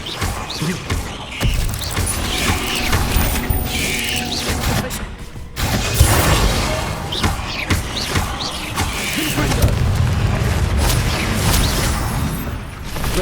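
The Bombarda and Confringo explosion spells in Hogwarts Legacy, heard as repeated booming blasts and crashing debris that fill the clip, with a short lull partway through and a dense, loud rumble throughout.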